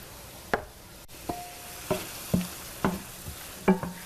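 A spoon scrapes and stirs orecchiette pasta sauce seasoned with crushed red pepper in a pan, producing a handful of distinct clacks and scrapes spaced about half a second apart over a soft background sizzle.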